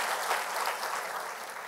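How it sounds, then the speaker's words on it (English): A church congregation claps hands together in a dense, steady round of applause that fills the whole moment. "give a wonderful hand clap to the Lord"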